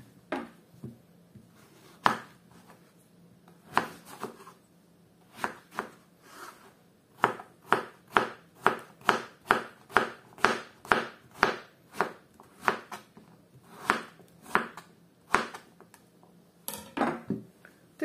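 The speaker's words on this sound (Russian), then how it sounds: "Сейчас будем нарезать его мелким кубиком." A knife chops peeled pumpkin into small cubes on a board, with sparse cuts at first and then a rapid, steady run of close, crisp strikes, with no talking.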